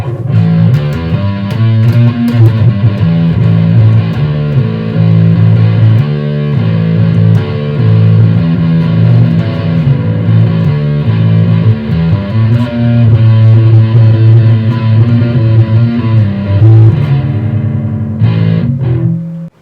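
A bass guitar runs through an EHX Metal Muff with Top Boost distortion pedal, loud and saturated, playing a sustained riff of gritty low notes and chords that continues steadily before cutting off.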